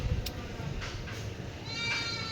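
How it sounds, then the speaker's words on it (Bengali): A goat bleating once, brief and fairly faint, near the end of a short stretch of quiet outdoor background. "ছাগলটা প্যাঁ প্যাঁ প্যাঁ করেই যাচ্ছে"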